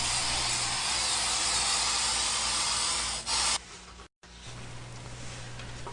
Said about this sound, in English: Graphite is sprayed on the match plate, eliminating the need for parting dust.